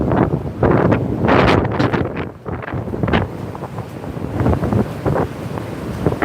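A strong north wind buffets the microphone at North Avenue Beach in Chicago on a freezing March day, with Lake Michigan waves breaking and surging beneath the steady, roaring gusts, close and loud throughout.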